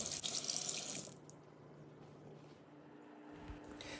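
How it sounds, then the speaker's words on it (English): Water runs from a tap over an avocado seed being rinsed, a loud steady splashing rush in the first second that drops to a quieter, continuous trickle for the rest. "I quickly rinse the seed off"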